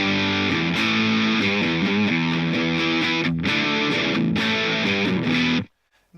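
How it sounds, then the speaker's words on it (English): Electric guitar played through a straight distortion pedal set for a big, meaty tone, loud chords and riffs ringing steadily for several seconds before cutting off abruptly near the end. "It is just a straight distortion pedal."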